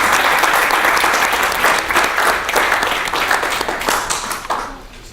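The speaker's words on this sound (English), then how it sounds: "we need to give the panel another big round of applause for it" An audience at an anti-racism higher education colloquium gives a panel a loud, sustained round of applause, dense clapping from a crowd that fades slightly toward the end.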